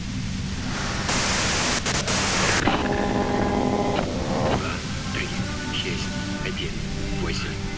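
Broadband static hisses loudly from a radio in the video game Disco Elysium, cutting in and out in blocks, while a voice speaks over a low steady hum.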